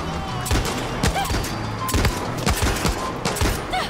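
Rapid bursts of automatic gunfire and scattered shots aimed at the player in the video game Far Cry 6, loud and close, with several volleys over a few seconds.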